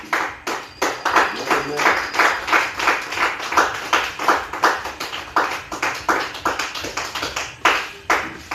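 A church congregation claps to acclaim the Lord, a steady, loud, rhythmic run of many hands beating together at a brisk even pace.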